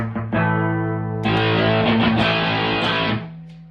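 A thick, saturated electric guitar chord rings out through a Ratajczyk Extreme Reverb amplifier, then a second heavier strum sustains with a washy, reverberant tail before cutting off.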